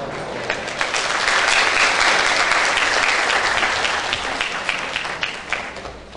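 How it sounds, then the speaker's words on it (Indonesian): Audience at an evening dharma talk in Palembang applauding after the speaker finishes, a loud, dense, sustained round of clapping that swells, then slowly tapers off. "Tepuk tangan lagi sekali lagi yang lebih meriah."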